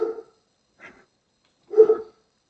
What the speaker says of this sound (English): Dog's being unhappy again.